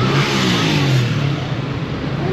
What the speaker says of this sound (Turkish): Tabii otobüs geçti önüne